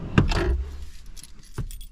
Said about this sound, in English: Let me go ahead and show you guys the key. It's going to be a standard Subaru key.